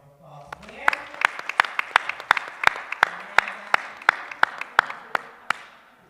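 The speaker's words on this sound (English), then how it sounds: "Let's give them a round of applause again." Applause from a seminar audience at a breast cancer awareness event, dense clapping with a few sharp loud claps standing out, swelling and then fading over about six seconds.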